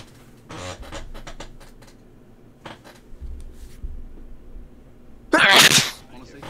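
A person sneezes once, loud and close, a sharp burst near the end after quieter stretches of faint talk and small rustling sounds.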